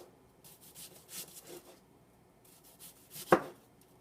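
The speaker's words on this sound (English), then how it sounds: "Okay, so that's a good way to cut the onion." A knife dices an onion on a cutting board in a kitchen, with a few soft, scattered slicing and rubbing strokes and one sharp chop near the end, close and quiet with no talking.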